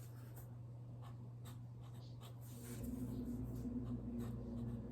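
A pen writes size labels onto paper pieces, a soft close scratching in short strokes over a low steady background hum, with no talking.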